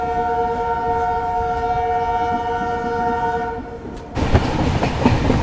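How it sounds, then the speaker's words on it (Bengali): A passenger train pulls out of Guwahati station, steady rolling rumble with a sustained horn-like tone for about four seconds, then louder wheel clatter and rushing noise as it gathers speed. "ছেড়ে দিল আমাদের ট্রেনটা গুয়াহাটি স্টেশন থেকে।"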